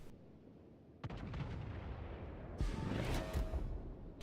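Warship artillery fires in a naval video game, a Richelieu battleship group nearby: a sharp boom sets off a rumbling barrage, then a second, heavier volley of deep blasts and crackling shell noise, loud and layered with no voices.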